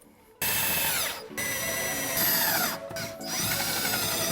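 Power drill driving the bolts on a Rough Country spare tire relocation mount for a 2018-2020 Jeep Wrangler JL, with a loud, close, continuous whine that runs from just under half a second to the end, briefly dipping twice as the trigger eases, with no talk.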